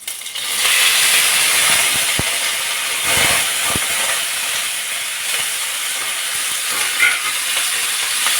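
Cumin seeds and green chillies sizzle in hot oil for a mutton curry, a steady close frying hiss with a few stirring knocks and clinks, no talking.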